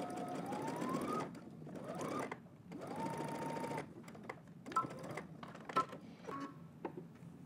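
A sewing machine stitches a shirt sleeve seam from the hem upward, sewn from a Simplicity 9758 shirt pattern. Its steady whirring runs in several bursts of a second or more, broken by short pauses and a few small clicks.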